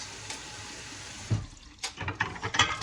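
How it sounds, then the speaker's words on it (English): Tap water runs into a kitchen sink while dishes are washed after baking a chocolate ricotta Bundt cake, a faint steady flow with a few louder splashes and clinks toward the end. "Gonna get my dishes done up here"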